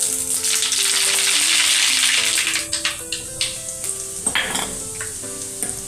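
Cumin and mustard seeds sizzle and crackle in hot oil for a dhaba-style sev tameta shaak, a loud steady frying hiss with sharp pops and a few stirring scrapes near the pan.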